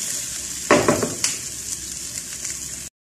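Beef frying in a pan with garlic and onion, a steady hiss throughout with a brief burst of louder sizzling and stirring near the start before settling back to a constant fry.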